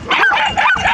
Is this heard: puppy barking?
yes